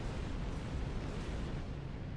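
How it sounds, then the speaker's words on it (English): Continuous rumbling blasts and booms from a video game battle during a live stream, a dense, steady roar of explosions filling the whole moment with no talk over it. "There's so many explosions."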